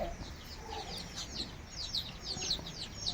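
Chickens kept at home clucking in short, repeated bursts, with a few sharper calls and chirps over a low background rumble, fairly close and with no talking.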